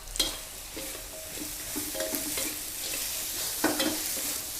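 Yellowtail fish stir-fries with chili and salt in a hot pan, sizzling steadily while repeated scraping strokes of the spatula sound close by. No one talks.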